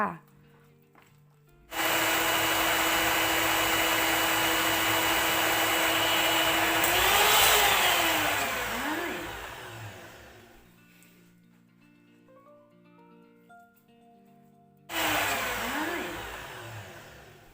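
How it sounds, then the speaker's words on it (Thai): An electric mixer whirs steadily as it beats batter for a Thai palm cake, running loud and continuous for long stretches, easing off briefly, then starting again near the end. "เพื่อความสะดวกและก็รวดเร็วน ะคะ แม่โบก็เลยเลือกที่จะใช้ เครื่องนะคะ ในการผสมแป้งค่ะ"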